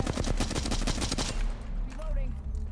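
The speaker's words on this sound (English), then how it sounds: "Oh my god, I'm getting shot." Automatic gunfire from the video game Apex Legends: a loud, rapid burst of shots rattles for about a second, then cuts off into quieter game ambience.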